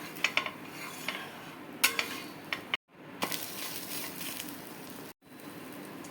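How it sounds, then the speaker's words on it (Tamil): A dosa turned on a hot griddle, with faint sizzling and a few light scraping and tapping clicks from a spatula, plus two abrupt cuts in the sound and no talking. "தோசையை திருப்பி போட்டுக்கணும்."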